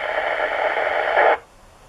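A ham radio receiver fed through a transverter opens its squelch on a weak signal, giving a steady hiss of band noise for over a second before it cuts abruptly to near silence.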